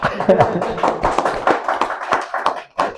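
Close, irregular hand clapping from a few people at a Masonic lodge gathering, sharp individual claps spread over a few seconds with brief pauses and a faint voice in the background.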